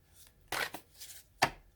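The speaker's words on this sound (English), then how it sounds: "Let me just give it a gentle shuffle and pull." A few soft, papery tarot card riffles and slaps in quick bursts, fairly close and quiet, with short pauses between them.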